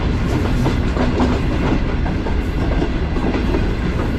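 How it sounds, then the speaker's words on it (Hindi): A passenger train rolls at restricted speed over freshly relaid track with new sleepers, a steady loud rumble with a fast clickety-clack of wheels on rail joints, continuous for the whole stretch and no voices. "ट्रेन रेस्ट्रिक्टेड स्पीड को फॉलो करते हुए आगे बढ़ रही है"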